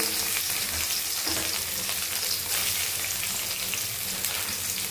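Carrots and tomato fry in hot oil in a pan for pasta, a dense, close, continuous sizzle with occasional stirring scrapes.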